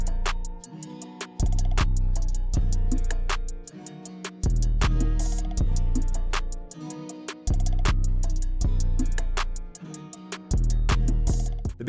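A hip-hop beat built from a chopped guitar sample, with punchy heavy bass hits and crisp drums, loops in a steady repeating pattern at a loud level with no voices.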